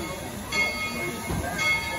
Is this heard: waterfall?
no